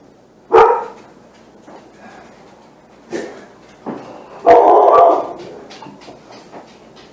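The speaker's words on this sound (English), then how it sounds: "And that would be the wonderful dogs." Dogs bark in a few sharp, loud bursts, one single yap early, then scattered barks and a longer volley near the end, with quieter gaps between.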